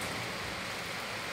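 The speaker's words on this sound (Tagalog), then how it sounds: "talagang sobrang lakas ng ulan" Heavy rain pours outside in Ipilan, a steady, dense hiss of falling water filling the air with no pauses and no voices.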